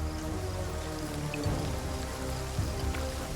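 Steady rain falls in the video game Total War: Pharaoh, a dense, continuous hiss of drops with low rumbling undertones, heard alone without talk.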